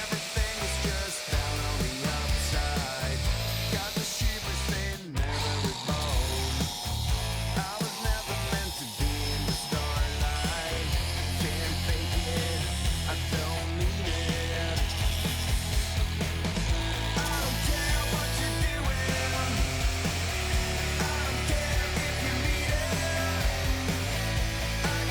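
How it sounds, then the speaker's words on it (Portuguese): An angle grinder finishing a cut in a metal workshop, running as a loud, continuous whining roar with rough bursts and shifts in pitch through the first seconds, then a steadier grinding drone to the end. "Agora eu vou terminar o corte."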